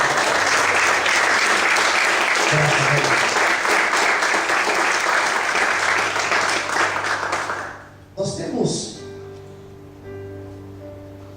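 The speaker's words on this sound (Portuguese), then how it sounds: "Será que você pode aplaudir bem forte" A church congregation applauds loudly and steadily for several seconds, a dense roar of clapping that fades out as someone speaks briefly at the end.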